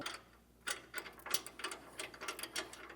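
Socket wrench ratcheting a bolt on a front anti-sway bar of a 2024 Entegra motorhome, a run of quick close clicks after a brief pause, fairly quiet.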